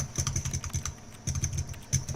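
A vending machine in The Stanley Parable video game gives off quick, light, repeated clicks in short bursts separated by brief pauses.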